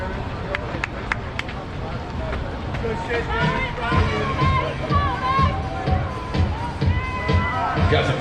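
Spectators cheer at the finish line of the Rumpshaker 5K in Birmingham, Alabama, crowd chatter and calls rising and falling near and far, with people talking close by throughout.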